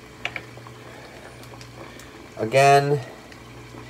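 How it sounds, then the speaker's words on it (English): Eggs boiling in a pot of water on a stove, a low steady bubbling hum running under the clip with a brief louder burst of sound near the end; a person speaks briefly near the start. "I just have to wait for the eggs to boil"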